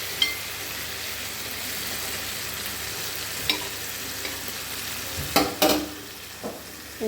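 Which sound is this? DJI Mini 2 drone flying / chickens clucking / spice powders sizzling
spice powders sizzling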